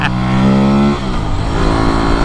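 An Aprilia Tuareg 660 motorcycle engine revs hard and accelerates up close, a loud, steady, rising whine with a rough, throaty tone that holds strong throughout.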